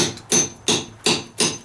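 A cat's paw is hammered into wood to pry out staples during stucco and dry-rot deck repair, giving four evenly spaced, sharp metallic strikes close by with short rasping decays between them.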